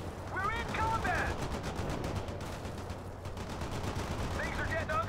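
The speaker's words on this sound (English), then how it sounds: "Firing armor piercing now." Armor-piercing rounds firing in a World in Conflict Soviet Assault battle, a steady crackle of rapid gunfire and bursts running throughout, with faint chirping effects layered over the continuous barrage.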